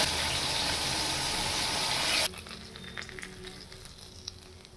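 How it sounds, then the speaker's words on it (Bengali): Fish dropped into well-heated oil in a wok, a loud dense sizzle for about two seconds that suddenly falls to a quieter crackling fry with scattered pops, close up and without talk. "তেলটা খুব ভালো করে গরম করে মাছগুলো কড়াইয়ের মধ্যে ছেড়ে দিলাম"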